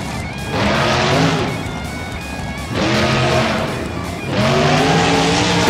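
Monster truck in BeamNG Drive game engine revving hard in three loud surges, pitch sweeping up and falling as it crashes through a stack of crush cars and a camper, with metallic crunches and tire noise between bursts.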